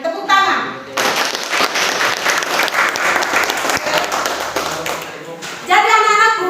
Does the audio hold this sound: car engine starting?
no